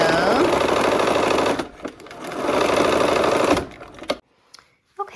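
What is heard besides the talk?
sewing machine stitching quilt block triangle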